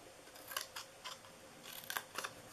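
Scissors cutting paper for a peek-through window Christmas treat box, a quick series of close, crisp snips in short bursts with no voices.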